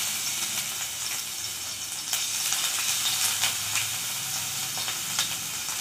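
Ginger garlic paste frying in hot oil for potato capsicum pakoda, a steady close crackling sizzle with faint bright pops throughout and no voices.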